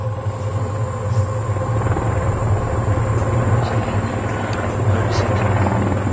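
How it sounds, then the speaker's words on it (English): A Black Hawk helicopter flies over a crash site, giving a loud, steady rotor thump and turbine whine that stays close and constant throughout. "the crew of a Black Hawk chopper spots the crash site"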